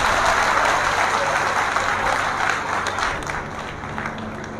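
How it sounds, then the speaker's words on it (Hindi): Loud crowd applause at a political gathering in Deoria welcoming Pandit Satish Chandra Mishra, a thick continuous roar of clapping that eases slightly toward the end. "मैं आप सबसे निवेदन करता हूं कि जोरदार तालियों से पंडित सतीश चंद्र"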